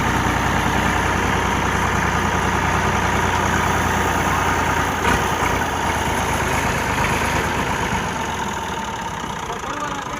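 A tractor engine runs loud and steady while reversing outdoors, a continuous close rumble with a slight easing toward the end and no talk.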